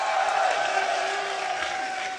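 Crowd cheering and shouting at the MLG Dallas Halo gaming event, a steady, loud wash of voices filling the whole moment without letup.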